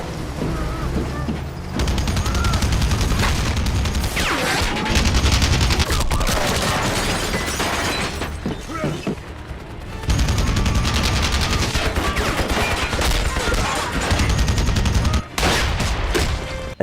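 Dense machine gun bursts and booming explosions from a violent action-film battle scene in Rambo (2008), loud and sustained, with heavy low-end blasts and rapid gunfire layered over score and occasional voices.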